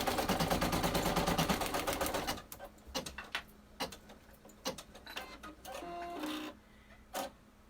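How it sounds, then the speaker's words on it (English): An embroidery machine stitches a tack-down placement line for a zippered key fob tab, giving a fast, steady mechanical rattle for about two seconds. It stops and is followed by scattered clicks and brief handling noises. "Now I'm going to go ahead and run that tack down again."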